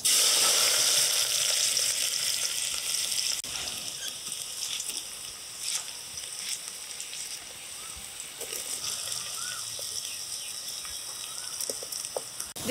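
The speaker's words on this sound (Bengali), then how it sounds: "পেঁয়াজগুলো একেবারে কুচি কুচি করে এই হাঁড়িতে দিয়ে দেবো।" Finely chopped onions frying in hot mustard oil in a deep cooking pot give off a continuous, fairly soft hiss and sizzle with scattered small pops, steady throughout.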